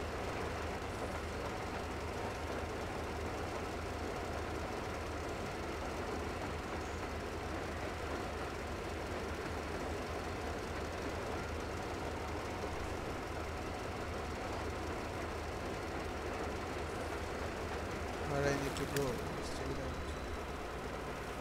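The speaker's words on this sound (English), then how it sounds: "Yes, our train is on the way." A train rumbles along in the video game Metro Exodus, a steady low clattering drone of rolling wheels and engine that continues evenly throughout, with a brief metallic clank near the end.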